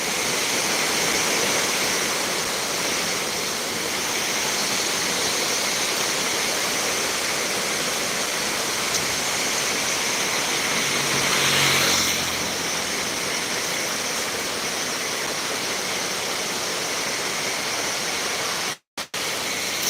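Excess water pours through the open gates of the Sutlej river headworks at Ropar, a steady, broad roaring rush that holds constant throughout with a brief swell midway.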